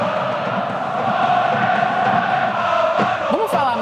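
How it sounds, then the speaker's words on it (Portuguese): Urawa Reds football fans at a Club World Cup match in Seattle against Inter Milan, a loud, sustained crowd chant and cheer filling the stadium, with a brief whistle near the end. "O Urawa tá vencendo a Inter de Milão por 1-0 e a torcida tá fazendo uma festa muito bonita"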